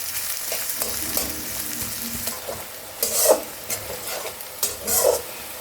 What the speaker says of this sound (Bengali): পেঁয়াজটাকে আমি ভালো করে ভাজবো, খুব ভালো করে ভাজবো একদম।